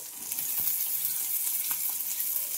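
Sliced pointed gourds (potol) frying in hot oil with a dried red chilli, a steady bright sizzle with occasional soft pops and stirring clicks, close and continuous.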